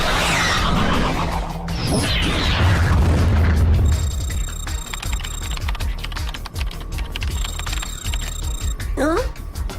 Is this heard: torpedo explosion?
yes